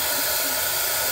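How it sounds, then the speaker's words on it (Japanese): A hair dryer blows loudly and steadily, a broad rushing hiss of air that fills the whole moment without interruption or talk. "ドライヤーいたしますので音が大きくなりますゆえ"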